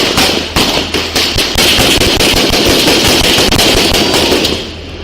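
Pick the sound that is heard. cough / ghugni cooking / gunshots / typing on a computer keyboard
gunshots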